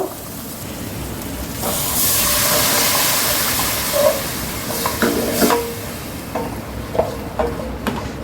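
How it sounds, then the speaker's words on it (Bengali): Spice paste for a coconut-paste drumstick curry cooking in a pan with a splash of water added, a steady sizzle and hiss with occasional stirring scrapes and clinks, close and alone. "এবার এই মশলাটাকে কষিয়ে নেব, কিছুটা পানি অ্যাড করব"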